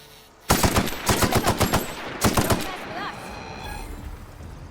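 Rapid bursts of automatic gunfire from a newly acquired weapon in The Outer Worlds video game, two clusters of sharp repeated shots up close, followed by a fading rumbling tail.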